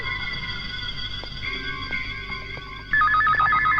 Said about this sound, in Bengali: এই সময় আবার কার ফোন?